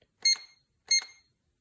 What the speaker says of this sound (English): My only complaint about this Chefman is how much it beeps.